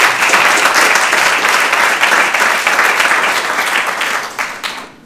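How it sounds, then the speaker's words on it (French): Sustained applause from an audience at a corporate event for two presenters, dense and steady clapping for about five seconds before tapering off at the end. "je crois qu'on peut vous applaudir"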